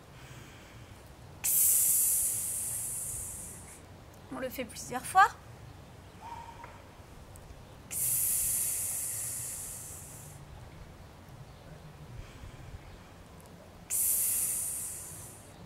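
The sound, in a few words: person imitating snake hiss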